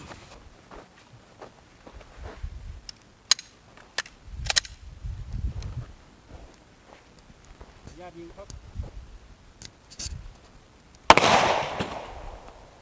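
9mm Remington Golden Saber +P rounds are fired outdoors into five water-filled gallon jugs. Sharp cracks and pops land scattered through the clip, ending in one loud, close burst, with faint voices in the background.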